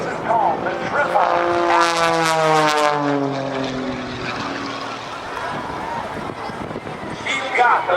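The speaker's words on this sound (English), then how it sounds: "She's got the Thunderbolt Lycoming engine and the MT propeller, helping pull her through the skies as she goes over the top." An aerobatic airplane with a Thunderbolt Lycoming engine and MT propeller drones loudly through a loop at an airshow, its engine pitch swelling and sliding downward as it passes, while an announcer talks over it throughout.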